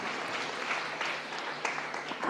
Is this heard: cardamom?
no